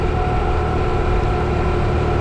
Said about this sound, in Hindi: और इंजन से एक आवाज़ भी आ रही है उससे ज़्यादा खींचने पे